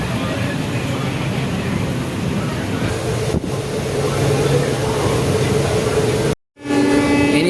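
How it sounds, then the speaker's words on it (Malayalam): A passenger train headed for Kannur rumbles steadily from inside a carriage, a loud continuous roar with rhythmic clatter that cuts out briefly near the end. "കണ്ണൂരേക്ക് ട്രെയിനിലേക്ക് പോകുന്നത്"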